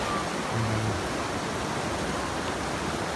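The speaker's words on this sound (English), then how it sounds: "The sound of the water is amazing." Rushing water of a stream near Kotor, Montenegro, a steady broadband roar close by with no speech over it.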